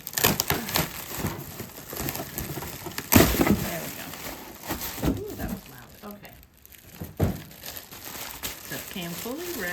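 Plastic package wrapping from a clothing order is cut open and crinkled up close, with loud crackling bursts and rustling while someone talks over it.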